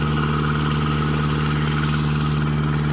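An engine-driven water pump drains a rice field with a steady, loud mechanical drone and a constant low hum, close and unchanging for the whole stretch, no talking.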